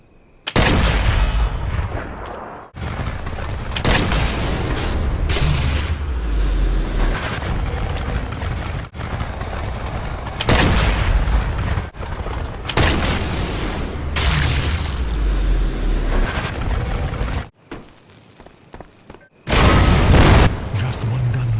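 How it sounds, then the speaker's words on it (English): Explosions and gunfire in the VR shooter Sniper Elite VR, with heavy booms and sharp shots repeating throughout, loud and dense, with short gaps of near quiet. "The explosion would be big."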